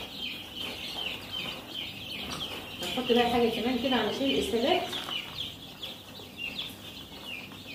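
Four-day-old domestic baladi chicks peep in a steady, high, overlapping chorus throughout, with someone speaking over the middle stretch.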